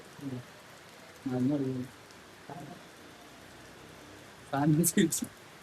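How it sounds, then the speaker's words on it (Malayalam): Heavy rain pours steadily throughout, a dense hiss under short bursts of nearby talking. "നല്ല മഴയാണ്."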